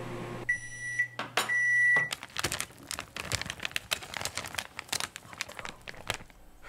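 Microwave oven humming and beeping: a steady tone with high electronic beeps near the start, then a busy stretch of crinkling, clattering handling noises as the food is taken out.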